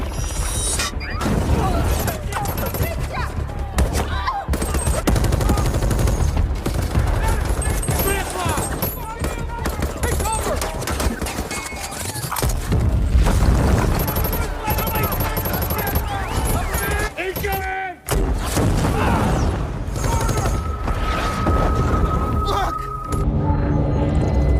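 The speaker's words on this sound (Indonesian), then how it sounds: "Tapi tiba-tiba saja terdengar suara tembakan sembari meneriaki nama Viktor Koval." Gunfire rings out in a film scene, with bursts of shots and crashing impacts among mechanical clatter. A voice talks over much of the loud, busy action.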